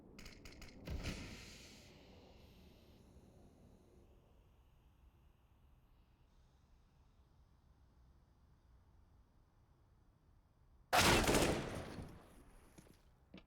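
Gunfire in a Counter-Strike esports match, with a short burst of shots early on and then a single sharp, loud volley after a long quiet stretch of low background noise.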